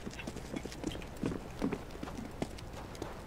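Rhythmic, fairly close footfalls in CS:GO, an irregular run of soft steps against a busy game-ambience background, with no talk over them.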